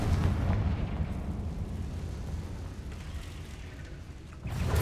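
A Confringo fire spell explodes in the video game Hogwarts Legacy as a broad, rumbling blast that decays over several seconds. It is fairly quiet overall, and a second burst begins right at the end.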